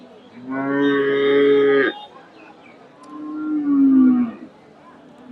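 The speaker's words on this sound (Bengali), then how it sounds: "এখানে একটা দেখেন ফ্রিজিয়ান জাতের সার মাসাল্লাহ সুন্দর একটা সার গরু" A Friesian bull at a cattle market gives two loud, deep moos close by, a long drawn call followed by a shorter, lower one, with quiet market murmur between.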